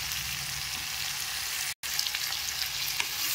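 Mango and brinjal pieces frying in a pan give a steady, loud sizzle that runs throughout, with a brief break near the middle and no talking.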